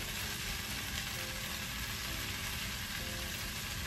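Soy bean sprouts frying in a pan for Chinese rice, a steady, dense sizzle that holds evenly throughout with no voices.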